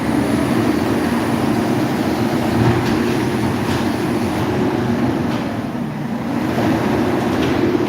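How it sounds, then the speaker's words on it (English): A garbage truck rumbles on a busy New York street with heavy foot traffic, a loud, steady low-pitched engine drone lasting throughout with no clear speech. "let's get away from that garbage truck."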